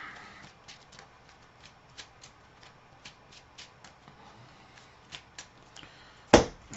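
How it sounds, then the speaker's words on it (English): A deck of Marvel Champions cards is riffled and shuffled at close range in a run of soft, quick flicks, ending with one sharp, louder snap of cards, and no one speaks. "to shuffle my deck"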